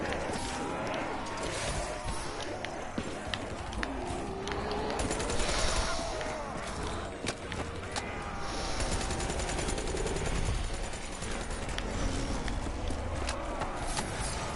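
Rapid gunfire from a video game rattles continuously and loudly throughout, with bursts of automatic fire layered over a busy game soundscape.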